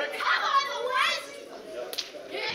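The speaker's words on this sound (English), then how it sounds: "You may be able to hear the crowd screaming for their teammates at this point." Young spectators at a junior 8-ball teams championship final shout and scream for their teammates in excited, overlapping high-pitched voices, with a few claps in between.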